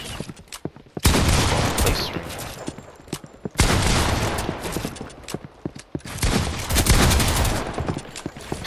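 Bursts of rapid automatic gunfire in a Fortnite box fight, loud close volleys in three main stretches separated by brief quieter gaps with scattered single shots.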